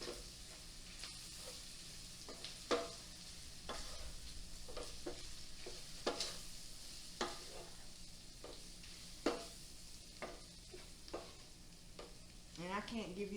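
Meat gets mixed through a little flour in a bowl to coat it: faint, irregular scraping and soft thuds spread across the clip, with a low background hiss.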